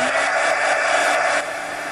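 A hair dryer blows steadily over a napkin art journal page to dry paint, a loud, close, continuous whooshing hum that dips slightly near the end, with no speech.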